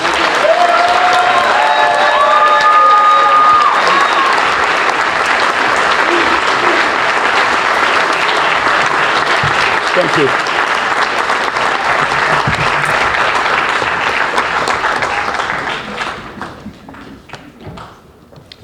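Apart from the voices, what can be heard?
audience applause for student athletes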